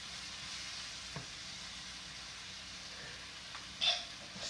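Chicken quesadilla filling with cheese and pepper sizzles quietly in a pan, a soft steady frying hiss broken by a couple of light scrapes and clinks from stirring.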